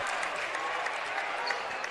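Crowd noise at a basketball game, a steady wash of cheering and clapping filling the arena, sustained and fairly even with a few brighter peaks.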